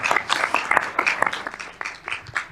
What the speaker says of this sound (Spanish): Te aplaudimos, ¿eh?